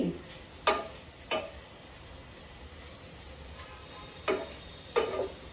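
Salted vegetable pieces are stirred with turmeric in a pan: a handful of short, soft scraping strokes in uneven bursts with quiet gaps between, fairly faint against a low background hiss.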